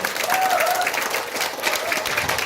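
A crowd of course participants claps together at a ceremony in a small theater in Insadong, producing an even wash of applause that holds at a steady level for a few seconds.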